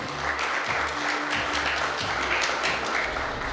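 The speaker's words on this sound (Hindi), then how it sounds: "जोरदार तालियां बजाएं आप लोग।" Audience applause at a Hindi tribute ceremony honouring the widow of martyred Major Mayank Bishnoi, a dense steady roar of many clapping hands sustained throughout at even loudness.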